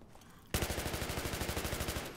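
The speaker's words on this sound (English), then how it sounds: "Still some explosions." Rapid, evenly spaced bursts of explosive gunfire-like blasts erupt after a brief quiet moment, loud and close, as lights and wall panels get blown apart on the Ziba Tower map of a destructible first-person shooter.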